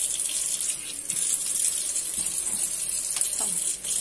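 Water running from a kitchen tap to wet the top of freshly baked homemade bread, a soft steady splashing flow heard close by and alone.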